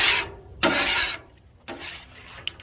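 A metal scraper rasps across a Blackstone griddle surface in two short strokes, close and fairly loud, with a faint clink at the end.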